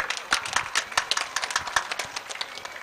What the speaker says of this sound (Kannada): ಜೋರು ಕೈ ಚಪ್ಪಾಳೆ ತಟ್ಲೆ